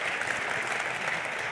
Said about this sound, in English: can we give them a round of applause for putting this all together?